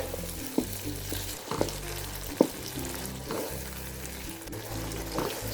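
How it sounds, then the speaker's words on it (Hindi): Green garlic tops frying in a pan for a vegetable pulao with potato and peas, a steady close sizzle broken by a few sharp spatula scrapes and taps. "ये इसको मैं 2 मिनट भूनूंगी या 1 मिनट बस।"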